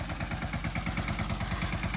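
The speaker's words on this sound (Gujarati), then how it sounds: "mini tractor" Small mini tractor engine running close by, a steady rapid chugging and clattering throb at an even idle-like pace, loud and continuous with no talking.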